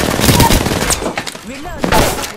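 Rapid gunfire in Apex Legends during a firefight, several quick sharp bursts at close range that break off and then resume, with a voice talking under the shots.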